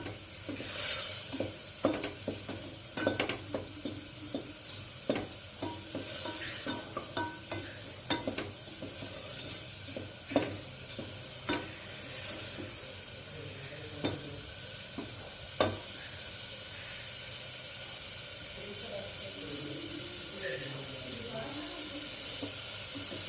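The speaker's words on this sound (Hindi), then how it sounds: "तो अभी जो है इसको पकाते हैं, अदरक लहसुन और मिर्चों के पेस्ट को" Ginger, garlic and chili paste frying in oil, soft sizzling beneath repeated scraping and stirring clinks of a spoon against the pan, close and quiet, with a little speech and a faint hiss of steam.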